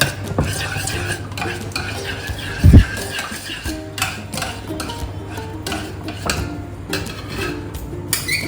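Maida flour being stirred in a pan over a low gas flame for a white sauce, a steady scraping stir with faint sizzling and one brief louder clatter of utensil against pan, no talking.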